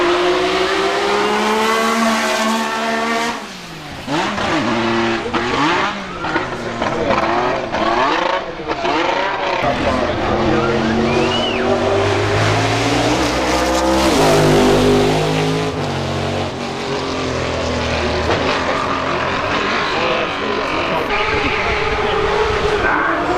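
A 6-litre naturally aspirated car accelerates hard at a hillclimb speed festival, its loud engine climbing and shifting through rising, sweeping revs, with brief crowd noise and voices mixed in.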